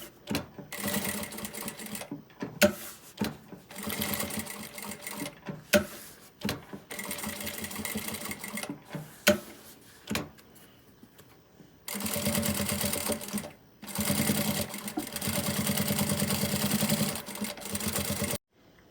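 Sewing machine topstitching a zipper on a fabric pouch, close and steady, running in repeated bursts of rapid stitching broken by short pauses, with a longer continuous run near the end.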